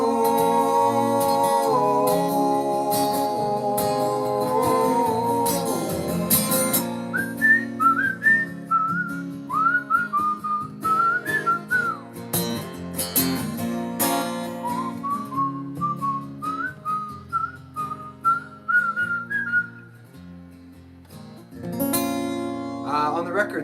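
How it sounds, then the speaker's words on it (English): A melodic whistled line from a song recording comes in after an opening stretch of music, with bright phrases of short whistled notes and brief pauses over soft backing. "On the record, there's a whistle that happens."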